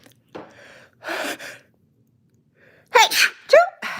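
A few sharp breathy inhales build up before two loud, close sneezes burst out near the end.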